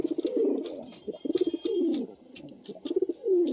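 Pigeons in a loft coo loudly and close by, repeating rolling, throaty calls in quick pulsed bursts with short pauses between them.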